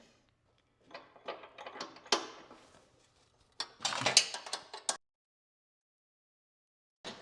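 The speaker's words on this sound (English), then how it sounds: "Now we just have to put this guide right here, and then we have to bolt that in." A wrench tightens the bolt holding the guide on a Troy-Bilt Storm 2840 snow blower. Two close bursts of quick metallic clicking and ratcheting are followed by silence and a last brief click.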